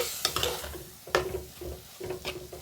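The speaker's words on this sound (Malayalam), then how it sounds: "ഇത് നമുക്കിട്ട് നന്നായിട്ട് പച്ചമണം മാറുന്ന വരെ ഒന്ന് ഇളക്കിയെടുക്കേണ്ടതായിട്ടുണ്ട്" Chili, coriander and turmeric powder frying in a pan for a lemon curry, stirred with a spoon that gives several sharp scrapes over a soft, steady sizzle, with no voices.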